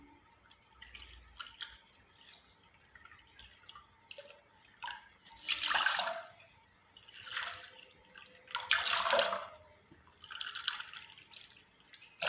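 Four cups of water pour into a separate pot in a few swelling bursts, splashing and trickling close by, with dripping and quiet gaps between the pours.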